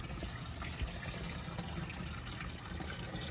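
Tap water runs steadily into a tray of a DIY pond plant propagation bed fed by a half-inch intake, a continuous close trickling and filling wash with no talk.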